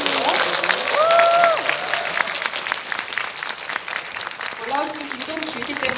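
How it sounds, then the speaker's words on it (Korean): An audience applauds as a film director and cast come onto the stage for a greeting at a screening, a steady, loud wash of clapping with a few cheers while a host speaks over it. "큰 박수로 맞아주세요."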